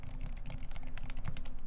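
Fast, continuous typing on an aluminum mechanical keyboard fitted with silent switches, giving soft, muffled, closely spaced key thuds at a steady moderate level without any voices.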